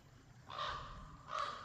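A raven calls twice nearby, two harsh caws about a second apart over quiet outdoor background.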